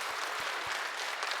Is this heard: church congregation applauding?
yes